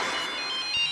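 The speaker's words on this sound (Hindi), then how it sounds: "ये डॉक्टर झटका का फोन यहाँ कैसे आया?" A telephone in a Motu Patlu cartoon episode gives a short, steady electronic ringtone, heard alone for under a second.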